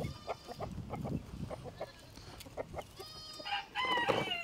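Chickens and guinea fowl let loose outdoors for the first time give scattered clucks and squawks, with a louder burst of calls near the end over a busy background of movement.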